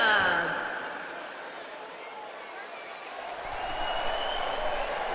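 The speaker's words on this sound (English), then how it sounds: "Quite the response from the crowd here for Hannibal Jacobs." A pro wrestling crowd cheers and applauds a heavyweight challenger's ring entrance, a loud roar that eases off, then swells again with steady noise and announcer-style talk.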